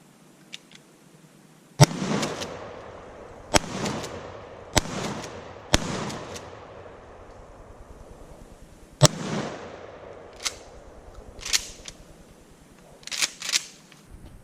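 A Mossberg Scorpion shotgun loaded with birdshot fires at cans outdoors, five loud sharp blasts spaced a second or more apart, each with a short decaying tail, followed by lighter clanks and pops.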